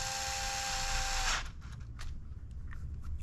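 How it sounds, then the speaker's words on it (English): A power driver whirs steadily for just over a second, driving screws into a plastic motor mount on a Traxxas Sledge RC truck, then stops, leaving faint clicks and handling noises. "you're screwing into plastic on this, so don't over tighten"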